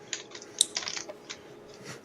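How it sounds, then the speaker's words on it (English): Fingernails click in a quick, irregular patter, faint and close, with a few sharper taps standing out. "clicking their nails."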